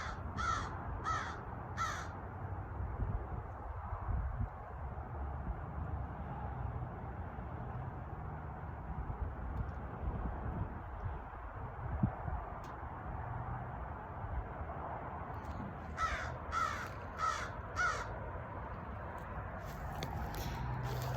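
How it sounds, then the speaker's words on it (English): Crow-like bird caws outdoors, a few harsh repeated calls at the start and a longer run of four or five near the end, moderately distant over steady wind and background hiss, no talking. "let's listen to see if it makes another bird call"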